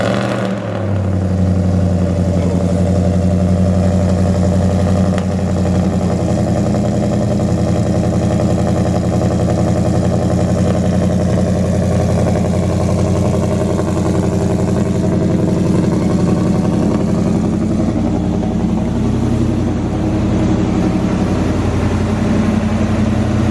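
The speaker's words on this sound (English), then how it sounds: "So we're gonna hear a little bit of a cold start here on this bad boy." A 2007 Chevy Colorado engine cold-starts and then settles into a steady, loud idle that runs unbroken at close range, with no voices.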